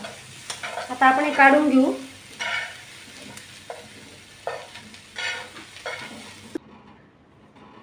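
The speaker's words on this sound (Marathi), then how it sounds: "भाजून घेणार आहोत कांदा टोमॅटो" Onion and tomato fry in a pan while being stirred, giving close scraping and rattling strokes over a light sizzle in irregular bursts, with someone speaking briefly partway through before the sound cuts off near the end.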